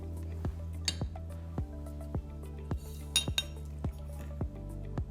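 Lemon pieces crushed with sugar in a glass for a summer drink, a regular series of about a dozen muffled knocks and clinks at a steady pace, close and fairly quiet.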